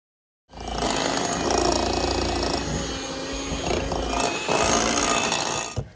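An electric hand mixer running at its lowest speed churns a damp bath bomb mixture of powder and oil, giving a steady close motor whir with grinding texture that starts abruptly and cuts off at the end.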